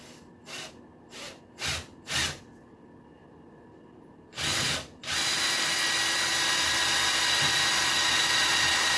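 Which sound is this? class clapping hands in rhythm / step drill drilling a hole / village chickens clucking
step drill drilling a hole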